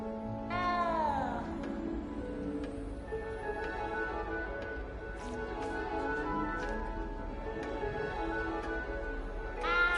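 A scared cat in the Hogwarts Legacy game gives one loud, sweeping meow right at the start, followed by fainter mews scattered over a steady ambient backdrop.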